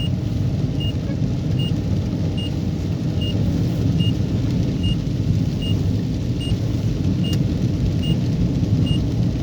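Steady rain pours down continuously over Mudurnu, Turkey, with a low rumble of distant thunder underneath; a dense, unbroken wash of noise with no voices.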